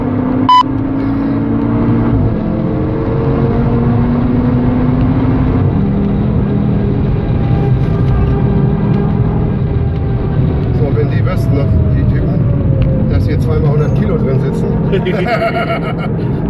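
An Audi TT RS on the Nordschleife revs through second gear toward 6000 rpm, its engine a loud continuous in-car drone with rising tones, while someone talks steadily over it throughout.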